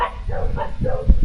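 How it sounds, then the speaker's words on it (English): Dogs bark and yip in a short burst near a homestead house build, a few quick muffled barks close by with no talking. "I need to stop because the dogs are barking"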